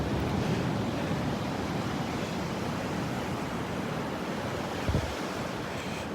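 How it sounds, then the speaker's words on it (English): Surf rolls up a beach at Delnor-Wiggins as the tide comes in, pulling shells back into the water; a continuous, full roar of waves with wind rumble on the microphone and no talking. "Tide's coming up now and pulling all the shells back into the water."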